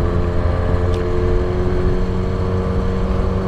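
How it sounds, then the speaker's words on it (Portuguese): Motorcycle engine captured on a GoPro during a ride on a SRAD bike, a loud, steady drone with continuous engine rumble and road noise filling the whole stretch, no talking. "o som da moto fica bem baixinho"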